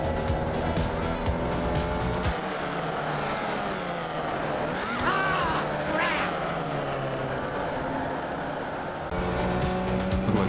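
A Formula Vee race car in an iRacing sim race at Oschersleben spins out. A steady engine drone carries brief squealing sweeps in the middle, while a voice talks over it throughout.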